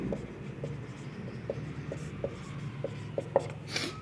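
A pen writes notes by hand on paper during a polity lesson, giving soft, close scratching strokes with small regular ticks as the letters form, plus a brief rustle near the end.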